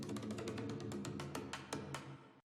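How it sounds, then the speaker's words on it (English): An unprocessed drum roll sample: rapid, evenly spaced snare hits rolling for about two seconds, fairly quiet and alone, then stopping. "And again, this drum roll sample here at the very end."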